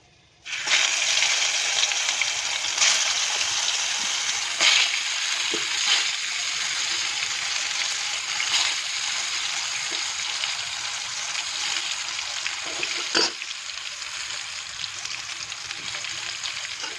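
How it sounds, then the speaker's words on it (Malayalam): Masala-coated eggplant fries in hot coconut oil with a steady, loud sizzle and crackle that runs throughout, broken by a few brief clinks and stirring knocks, and no voices. "നമുക്ക് ഈ മസാല വരട്ടി വെച്ചിരുന്ന കത്തിരിക്ക ഈ വെളിച്ചെണ്ണയിൽ കിട്ടുന്ന ഫ്രൈ ചെയ്തെടുക്കാം"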